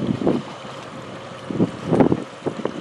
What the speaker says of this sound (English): got a pretty good crosswind